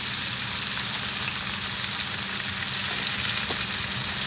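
Breakfast potatoes fry in a pan with a steady, close, even sizzle that holds at the same level throughout, with no talking.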